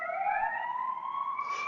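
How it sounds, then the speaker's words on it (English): An ambulance siren sounds in downtown Chicago, heard from indoors. It is a steady, rising electronic wail at a moderate distance that holds clear and continuous, with no speech over it. "Shout out to the city ambulance, the customary ambulance that goes on during every High Press podcast episode."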